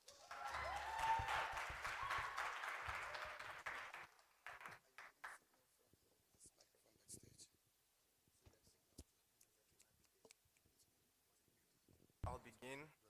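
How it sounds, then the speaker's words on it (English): Audience at a tertiary debating challenge applauding the Leader of Opposition, a warm burst of clapping for about four seconds that quickly fades into scattered claps, shuffling and near silence, then a voice begins speaking. "Round of applause for him, please."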